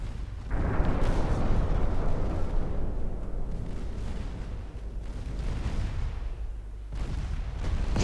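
Torpedo explosions in a naval war strategy game set in 1947 land as heavy, rumbling booms, one big blast near the start and another late, with a long roaring decay between them.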